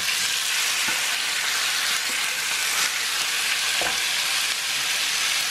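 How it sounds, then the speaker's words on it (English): Beef seasoned with sweet peppers browning in a hot pan, a loud continuous sizzle and crackle of frying that holds steady throughout, with faint stirring scrapes and no talking. "I season up the beef real nicely with sweet peppers, and I'm just gonna brown it a little bit"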